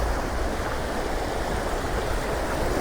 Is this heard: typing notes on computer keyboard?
no